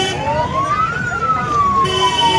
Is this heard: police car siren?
yes